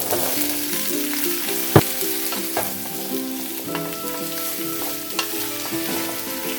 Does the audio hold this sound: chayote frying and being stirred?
yes